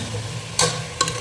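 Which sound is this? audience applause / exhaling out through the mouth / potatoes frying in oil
potatoes frying in oil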